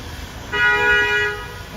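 A car horn in New York street traffic in Greenwich Village sounds one clear, sustained honk of about a second, rising over the background street noise.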